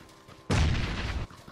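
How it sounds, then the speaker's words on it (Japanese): Gunfire in a PUBG 50-versus-50 battle royale match bursts out suddenly as a loud, sustained volley lasting under a second, set against quieter background game sounds. "この銃声してる方から行こうか。"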